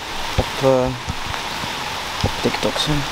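Steady rain falls throughout, a constant close hiss of drops on surfaces, while someone speaks Dutch over it in short phrases.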